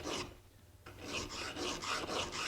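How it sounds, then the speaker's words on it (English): A molding plane blade rubbed back and forth on a coarse sharpening stone, giving a close, gritty rasping in a steady rhythm of short strokes after a brief pause, with no speech. "I start with a coarse stone because I know I'm quite away from the edge"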